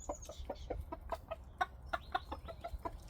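Backyard chickens clucking after being given scratch grain, a rapid run of short, sharp clucks and calls at close range, fairly quiet and uneven in rhythm, with no voices present.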